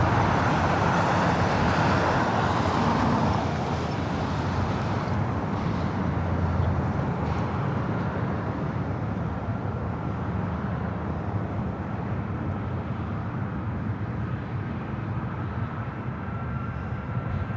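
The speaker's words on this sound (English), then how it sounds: "Up next is the United 757 at 300 coming in from Honolulu." A United Boeing 757 arriving at LAX from Honolulu roars past, a loud, sustained broadband jet rumble with a hint of whine that gradually fades as the plane passes.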